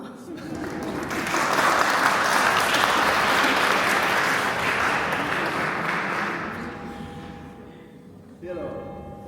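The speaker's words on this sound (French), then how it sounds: "Vous pouvez l'applaudir." An audience applauds a performer at a village show in Sempigny, the clapping swelling for several seconds and then fading out, with a voice entering near the end.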